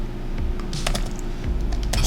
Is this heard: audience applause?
no